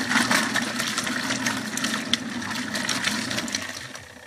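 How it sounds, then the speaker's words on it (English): Wash mitts and a shammy for car detailing being rinsed in a bucket of water, a steady close sloshing and splashing that runs continuously with small bursts and no talk. "All I got to do is dump them in some wrench water. And I'm good to go. Just rinse them out."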